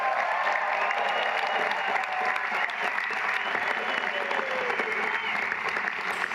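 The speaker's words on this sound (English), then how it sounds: "Can we have a round of applause for First Lady Melania Trump?" Dense, steady audience applause fills a large room at a political comedy show, loud and sustained throughout with cheering mixed into the crowd noise.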